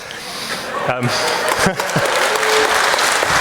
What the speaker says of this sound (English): I was not looking for a round of applause for the Tories, but there you go.